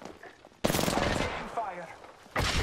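Gunfire in the video game Apex Legends during a ranked match, a dense automatic burst lasting about two seconds followed by another burst starting near the end, loud and close, with voices mixed in.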